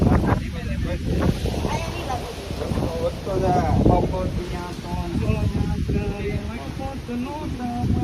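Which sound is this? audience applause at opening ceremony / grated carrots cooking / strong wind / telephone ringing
strong wind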